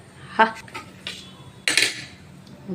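A knife cuts through a loaf of homemade bread in three close, scraping strokes, the last one longer and louder, over a quiet room.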